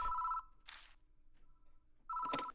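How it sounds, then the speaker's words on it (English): In-game telephone rings in two bursts of an electronic bell tone separated by a pause, with faint noise between, clear and steady with no voices. "Abruptly, the ringing stops, but then the receiver starts to make noise."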